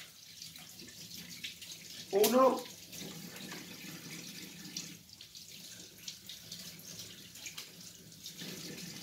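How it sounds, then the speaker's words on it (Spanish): Cold water runs briefly from a kitchen tap over a raw chicken being washed for cooking. It is a short splashing burst, moderately close, with quiet talk around it. "Se coge y se lava. Un poco lavarlo. ¿Vale? Con agua fría."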